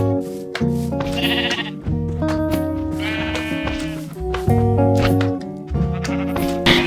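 Sheep bleat repeatedly in the video game Minecraft on a flat-world survival farm, several loud wavering calls overlapping with other farm animal sounds and music-like tones.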